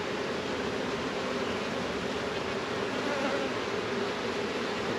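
Honeybees swarm around an open hive, a dense, steady close-up buzzing drone that continues unbroken with no voices.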